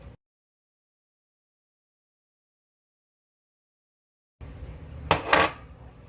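A spoon scrapes leftover raspberry fig jam from a cooking pot into a jar, a short burst of clinking and scraping after a long silence, close and fairly quiet.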